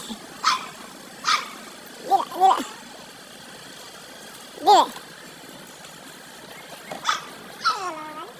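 A road dog barks in about seven short separate bursts spread across the stretch, some sharp and some whining, fairly close and loud against a quiet background.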